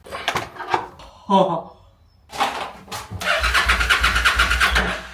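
A Honda NC700 motorcycle engine cranks without catching: short bursts of starter whirring and clicks come first, then a longer, steady, rhythmic cranking in the last seconds. A voice is heard briefly between them.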